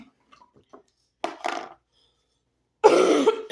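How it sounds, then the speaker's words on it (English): A person still recovering from illness coughs a few times up close: two short bursts, then a louder, longer cough after a pause, in an otherwise quiet room. "I apologize for the coughing."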